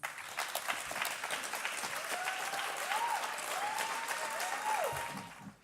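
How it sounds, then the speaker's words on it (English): A crowd applauds as panelists come on stage at a literary event, a dense, sustained wash of clapping that tapers off at the end, with faint voices and a few whistle-like tones over it. "A round of applause, please."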